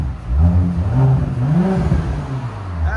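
A 2019 Audi S7 with a 2.9L twin-turbo V6 and straight pipes revs hard and close, its exhaust rising and falling in a continuous, throaty surge without pause.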